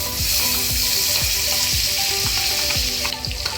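Butter sizzles steadily in a hot kadai while chicken is being cooked, a dense continuous hiss with soft, regularly spaced low thuds beneath it.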